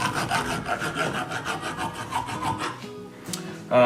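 A thread-restoring tool cleans bolt threads, giving a rhythmic rasping, filing scrape in quick repeated strokes, close and steady, then a brief pause and a louder clunk at the end, with no talk.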